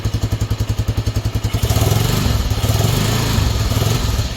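A Honda XL 125S motorcycle with an electrical fault sits idling close by, a steady single-cylinder thumping pulse that thickens into a rougher, louder running note partway through.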